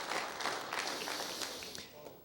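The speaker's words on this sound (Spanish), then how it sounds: "Un aplauso para la pregunta" Audience at a conference lecture applauding, a brief burst of scattered claps that fades over a couple of seconds.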